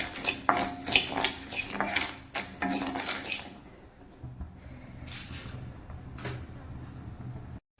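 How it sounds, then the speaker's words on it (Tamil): Rice grains crackle and pop in a dry pan while being roasted, a dense, busy crackle at first that thins out to sparse, faint pops. "பாருங்கள் அரிசி பொரியுது"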